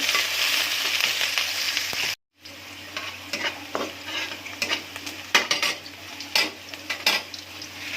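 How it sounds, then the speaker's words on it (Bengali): Chopped onion and green chili are stirred in a sizzling pan, with a continuous fry hiss and repeated scraping and clinking of a spatula against the metal, briefly cut off by a silent gap before resuming. "পেঁয়াজ কুচি, মরিচ, কাঁচা মরিচ দিলাম, তারপর একটু নেড়ে চেড়ে নেব।"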